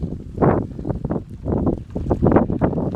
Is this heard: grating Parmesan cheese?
no